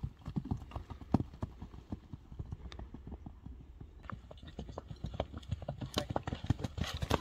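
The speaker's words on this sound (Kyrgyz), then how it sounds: "Аттын баскан басыгын бир сыра көрө элем." A horse walks with steady, fairly close clip-clopping hooves in a repeating rhythm throughout, over some background noise and no speech.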